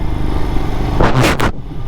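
A single motor vehicle sweeps past on the road to Lonavala, a loud close whoosh rising and fading in about half a second over steady traffic rumble.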